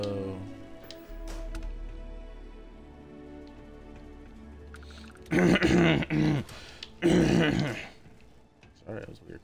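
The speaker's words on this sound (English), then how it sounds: "Sorry, that was a weird cough." Harsh coughs burst out in a few loud clustered fits over quiet game background ambience during a Starfield playthrough.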